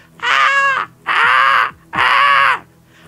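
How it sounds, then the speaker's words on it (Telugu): A crow caws three times on a balcony, loud and close, each harsh call evenly spaced with short pauses between. "ఏం కాకిరా, బాల్కనీకి ఎందుకు వచ్చిందిరా"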